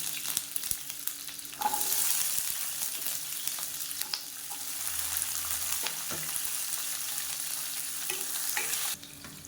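Shallots and garlic sauté in a pan for coconut-style chutney, a steady close sizzle with occasional stirring scrapes and clinks running throughout, louder after the first couple of seconds and dropping at the end.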